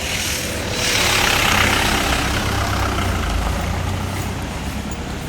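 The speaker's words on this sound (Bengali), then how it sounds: "গাড়ি আসছে সাইডে।" A heavy vehicle engine rumbles loudly on a narrow hillside road, a steady roar with broad hiss that swells as it passes close by, then holds at a high level.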